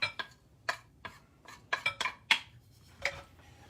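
A utensil mixes bacon pie filling in a bowl, producing irregular, close-up clinks and scrapes against the bowl in uneven bursts with quiet gaps between.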